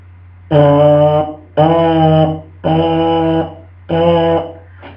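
Lip buzzing through a trombone mouthpiece, four sustained buzzy tones of about a second each with short pauses between them, loud and close over a low steady hum, no talking.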